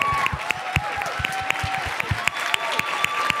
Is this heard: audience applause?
yes